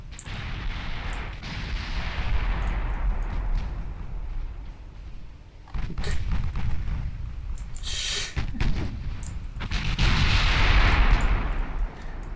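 Heavy 8-inch naval guns fire in the warship battle game Ultimate Admiral Dreadnoughts, booming in repeated loud blasts with rumbling low-end decay over a steady battle din, a sharper burst near the middle.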